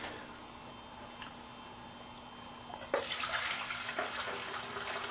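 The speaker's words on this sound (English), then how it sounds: "we're going to take all this great juice that's in here and we're going to pour it in to the" Wine-braising juice from a snow goose dish poured into a pot, a quiet background hum at first and then a sudden close, splashing pour that continues to the end, with no talking.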